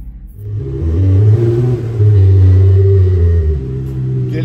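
A 2017 BMW X1's engine revs loudly up close, its deep, throaty rumble surging and holding for several seconds.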